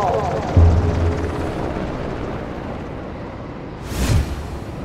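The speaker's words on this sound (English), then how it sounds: "This is gonna be an awkward helicopter ride." A helicopter ride in the video game Ring of Elysium gives a loud, steady rotor-and-engine drone that fills the whole stretch, with a brief surge near the end.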